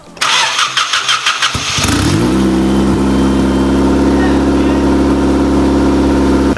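A Honda Civic EG engine cranks with a rapid rhythmic starter whir, catches and fires, then settles into a loud, steady idle close by, with people talking nearby.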